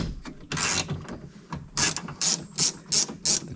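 A hand ratchet works loose the window regulator clamp hardware inside the door of a 2011 Ford Expedition, giving a run of close, rhythmic clicking pulls with short pauses between strokes.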